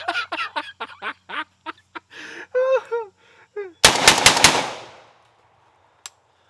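Four rapid blasts from a magazine-fed shotgun during a messy torture test with the mag smeared in gravy, loud and close in a tight burst, followed by fading ring-out; people talk briefly beforehand.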